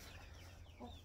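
Young chickens in a winter brooder pen with feeders cluck and peep softly over a constant low hum, a faint brief burst of fowl chatter near the end.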